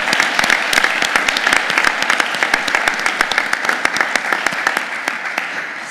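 An audience applauds students at a university board of regents meeting, a steady dense round of clapping from many hands, loud and continuous throughout with no talking over it.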